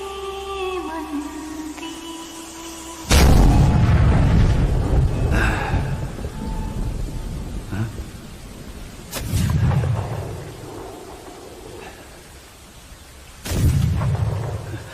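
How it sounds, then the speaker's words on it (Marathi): Cannon fire booms out in a Ganesh festival decoration show staging a Pawankhind battle scene, three heavy deep blasts spaced several seconds apart, each rolling and rumbling before fading into a noisy background. "तोफ वाजवा"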